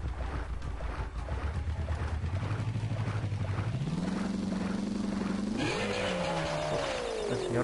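A motorbike engine in Crash Bandicoot 3: Warped revs steadily, its droning pitch climbing in stages and ending in a rising whine over constant game background noise.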